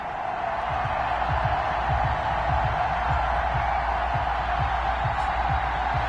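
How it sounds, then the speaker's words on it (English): A stadium crowd roars continuously at a Madden NFL video game matchup between the Jacksonville Jaguars and the Indianapolis Colts, with dense steady cheering and rhythmic low thumps underneath. "This crowd is ready as their guys get set to match up"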